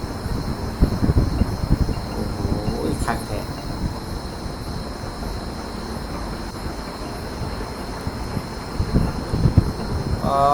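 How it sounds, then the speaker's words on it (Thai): A train rumbles past at moderate distance in Thailand, a steady low roar with faint insect chirping in the background and a brief metallic squeal. "มาแล้ว รถไฟ"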